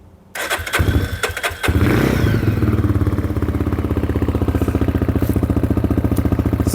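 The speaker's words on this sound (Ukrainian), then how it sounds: "давайте ж послухаємо, як звучить ліфанчик при рідному вихлопі" A fuel-injected Lifan KPR 250 single-cylinder motorcycle on its stock exhaust cranks with a few stuttering tries, catches, and then idles in a loud close-up stream of rapid, even pulses with no voices.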